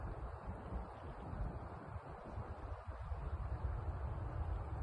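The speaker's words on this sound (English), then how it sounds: "The wind is slightly picking up." Steady outdoor wind buffets and rushes across the microphone, a continuous low roar that swells slightly without any voices.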